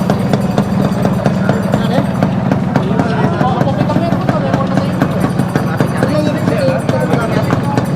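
A stock Yamaha RXT135 motorcycle engine runs steadily and fairly quietly, a continuous mid-level hum at a motorcycle meet, with people talking over it throughout.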